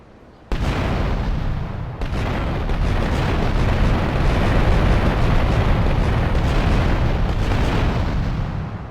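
A car bomb in Grand Theft Auto: Liberty City Stories erupts in a sudden loud blast, then a sustained roaring rumble of fire and debris that rolls on for several seconds before starting to fade.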